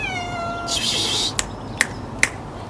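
A neighbour's cat meows in a long drawn-out call up close, followed by three sharp clicks or taps, with no talking.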